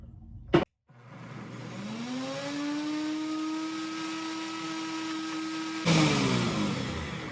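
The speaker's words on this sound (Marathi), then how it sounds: "सो आपण आधी मिक्सरला लावूया पुरण." A kitchen mixer grinder runs steadily on puran filling, a loud continuous motor whine with a rising pitch after a short start-up burst, then a louder surge near the end.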